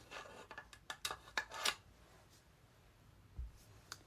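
Bolt assembly of a Mossberg Maverick 88 shotgun sliding back into the receiver, heard as a quick run of close metallic scrapes and clicks, then a soft low thump and a final tick, fairly quiet.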